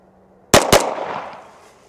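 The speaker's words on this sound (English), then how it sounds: "I'm gonna do double taps, starting with my dot directly on the X on my target" Two sharp gunshots in quick succession from a Sig Sauer P211 GTO pistol fired as a double tap, loud and close, each report ringing out into a decaying echo with no talk.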